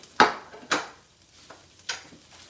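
A rice stir-fry being mixed in a hot pan gives a few scraping, sizzling strokes: two strong ones close together, then two lighter ones, with no voices.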